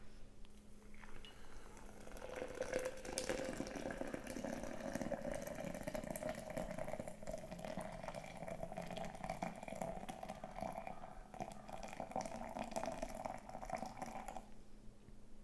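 Hot water is poured in a continuous close stream over 30 grams of ground coffee in a French press, filling it to 500 grams. The filling sound rises gently in pitch as the vessel fills, then stops abruptly.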